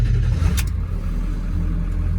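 A 2002 7.3 diesel truck engine with a KC300x Stage 2 63/73 turbo, Hydra tuner and S&B intake rumbles loud and close with a deep steady drone and a brief higher whoosh, no talking.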